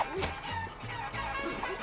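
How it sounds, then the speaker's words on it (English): Chickens cluck in the video game Guacamelee, a flock of short, choppy clucks and squawks overlapping at a quiet level over game background sound. "So as you can see, a bunch of chickens."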